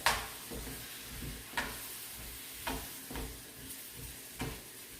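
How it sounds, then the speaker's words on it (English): Peppers frying in a pan for fajitas give a steady sizzle with a few sharp pops spaced through the clip, each one clear above the frying noise. "I don't know what that popping is"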